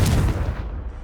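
A spell in Hogwarts Legacy bursts as a single loud, deep explosive blast with a booming low rumble that fades over about a second.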